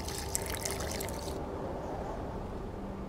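Water is poured into a flask while dye is mixed in The Witcher 2, a steady trickling, splashing stream heard alone at moderate loudness.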